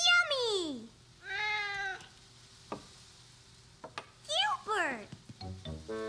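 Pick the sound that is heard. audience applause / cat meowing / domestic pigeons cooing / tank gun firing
cat meowing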